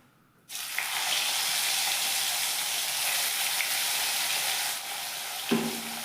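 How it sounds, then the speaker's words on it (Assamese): Fish frying in hot oil, a loud steady sizzle that starts abruptly and holds throughout, easing slightly near the end. "তেলখিনি গৰম হৈছে চ' মাছখিনি আমি ফ্ৰাই কৰিম ফাৰ্ষ্ট"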